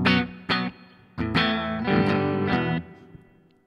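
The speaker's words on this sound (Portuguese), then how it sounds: "Vou colocar um reverbzinho para que não fique muito seco." Electric guitar played through a Zoom G1On multi-effects pedal with reverb, a few strummed chords and single hits ringing out with a slight wash of reverb tail, loud and close, no speech.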